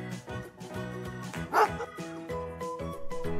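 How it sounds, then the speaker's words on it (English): A dog barks in a quick run of several yips and woofs, loud and close, with no talking. "Dog."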